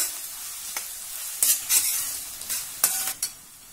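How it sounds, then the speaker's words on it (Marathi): Onion and carrot being stirred and sautéed in a pan for a finger millet (nachni) dish, with soft sizzling and a few sharp spoon scrapes and clatters at intervals, no talking. "कांदा आणि गाजर मऊ व्हायला थोडा वेळ लागतो, त्यामुळे ते आधी घालून परतून घ्यावं."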